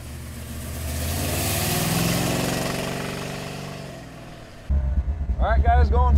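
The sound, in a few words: 1972 Pontiac Lemans car engine driving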